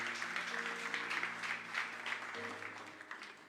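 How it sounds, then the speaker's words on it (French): A church congregation claps together in a dense burst of applause that fades slightly, with sustained keyboard tones underneath. "Est-ce qu'on peut acclamer pour ces 5 textes de la Bible?"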